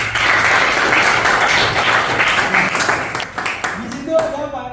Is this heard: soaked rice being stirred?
no